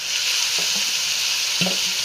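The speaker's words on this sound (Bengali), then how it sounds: "টমেটো দেওয়ার পর একটু ভাজা ভাজা করে মাছগুলো দিয়ে দেবো" Chopped tomatoes and fish fry in a pan with a loud, steady hiss of hot oil, and a couple of short stirring scrapes break in over it.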